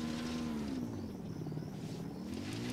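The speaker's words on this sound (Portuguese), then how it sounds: "Um helicóptero vindo pra cá." A steady low rotor drone hums throughout, faint and continuous, like a helicopter hovering some distance off, in the video game Ghost Recon Wildlands.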